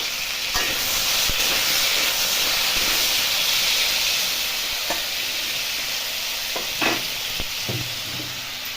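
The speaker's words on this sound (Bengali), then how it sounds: "সামান্য হলুদ, সামান্য লবণ দিয়ে ভেজে নেবো।" Potatoes fry with turmeric and salt in a pan, giving a loud, steady sizzling hiss close up, with occasional clinks of stirring and no talking.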